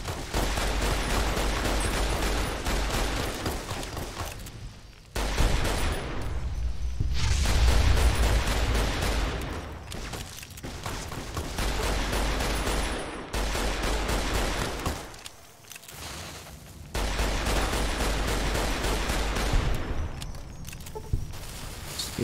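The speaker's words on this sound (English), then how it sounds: "If you could stop firing that flare gun at me" A flare gun keeps firing in Fallout: New Vegas, the shots arriving as loud, rapid, crackling bursts in long stretches broken by brief pauses.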